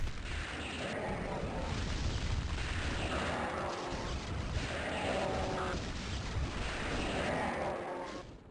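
Dense gunfire and explosions in Doom 2, heavy booming blasts and rapid shots piling up in waves, loud and continuous with surging bursts roughly every couple of seconds.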